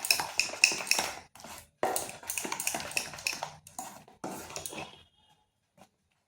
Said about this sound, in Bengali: এটাকে একটু বেশ কিছুক্ষণ ফেটিয়ে নিতে হবে।